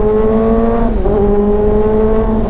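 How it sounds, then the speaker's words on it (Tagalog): A 2023 Kawasaki ZX25R four-cylinder motorcycle engine held at high revs, a loud, close, buzzy whine that dips briefly and then climbs back as the throttle is worked, with no talking. "Sobrang ganda ng response ng makina niya."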